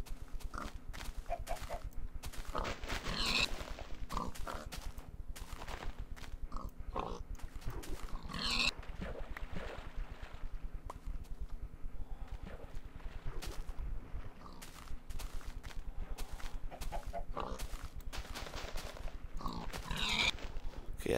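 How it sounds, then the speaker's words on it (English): Pigs in the video game Minecraft give short oinks and grunts at intervals over a steady low background hum, fairly faint, with no talking. "Oh, pigs!"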